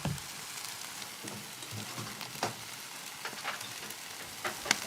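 Lamb cutlets sizzle on an Australian barbecue in a continuous, close hiss of frying, dotted with sharper crackles and pops, with no one speaking.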